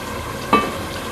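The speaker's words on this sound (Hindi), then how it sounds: "चनों को डालकर 1-2 मिनट मसाले के साथ भून लेंगे" Chickpeas frying with spices in a pot, a soft steady sizzle with one brief scraping stir in the middle, close and quiet, without voices.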